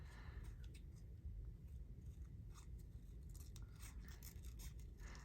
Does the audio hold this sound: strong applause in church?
no